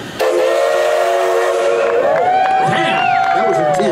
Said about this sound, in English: Let me see if I can get the train guy to blow the whistle